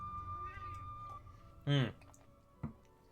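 A cat gives a single clear meow nearby, with a faint click shortly after against a quiet background.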